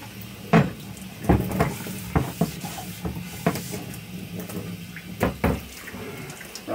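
Tap water runs into a sink while rust is rinsed off pinball machine legs, a steady hiss broken by several sharp clanks and knocks of metal against the basin.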